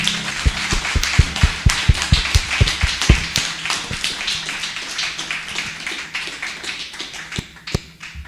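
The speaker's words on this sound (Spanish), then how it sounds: "vamos a darle un aplauso a nuestro compañero y padrino Raimundo Sousa" An audience applauds speaker Raimundo Sousa at an Alcoholics Anonymous meeting, with a brisk run of separate, fairly close claps that thin out and grow sparse toward the end.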